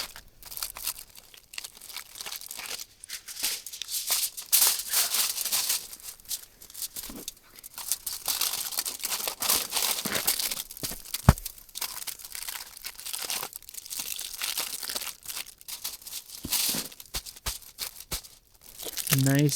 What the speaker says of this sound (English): everything has to stay in the tin foil